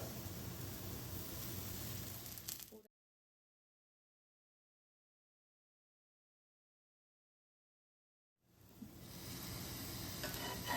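Besan pudla sizzles in oil on a pan with a steady, hissing crackle that cuts off into silence, then returns just as strongly near the end.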